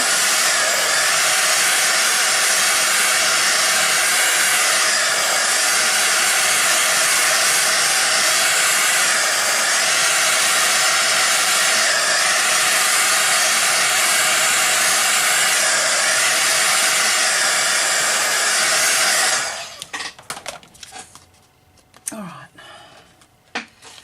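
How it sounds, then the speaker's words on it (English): A heat gun blows hot air over a handmade card with a loud, steady roar for about twenty seconds, then cuts out, leaving quiet handling noises and a few soft taps. "I might give this a bit of a dry with the heat gun."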